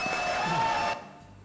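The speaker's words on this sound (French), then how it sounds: "Applaudissements pour Olivier Hurier." Studio audience on a French talk show applauds in a dense, steady wash of clapping that cuts off sharply about two-thirds of the way through, leaving a quieter room tail.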